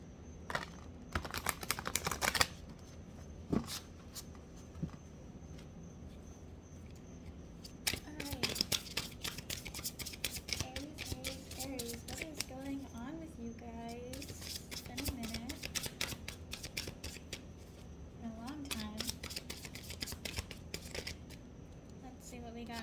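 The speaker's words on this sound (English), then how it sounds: "Let's do some shuffling for y'all." Tarot cards being shuffled in repeated bursts of crisp riffling and slapping, close up, with a person talking quietly between and over the shuffles.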